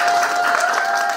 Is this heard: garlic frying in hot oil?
no